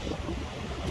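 Ocean waves wash onto the beach at Kamakura, Japan, a loud, continuous rushing roar of surf mixed with wind buffeting, steady throughout with no voices.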